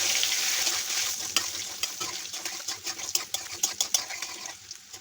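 Potatoes seasoned with salt and turmeric fry in a pan, a steady close sizzle with scattered sharp clicks of stirring toward the end, no voices.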